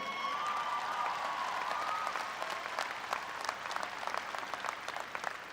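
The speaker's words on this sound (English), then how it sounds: "you can clap again." Audience at a 2022 undergraduate commencement ceremony claps in a dense, steady burst of applause that holds for several seconds and slowly thins toward the end.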